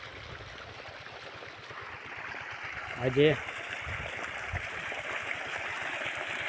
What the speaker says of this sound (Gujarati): સામે કેનાલ છે, એનામાંથી પાણી ચાલુ છે